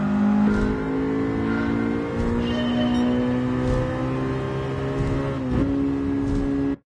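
A truck engine in Gran Turismo 7, driven with an H-shifter, drones steadily and loud, its pitch holding and then dipping briefly near the end as it shifts before cutting off abruptly.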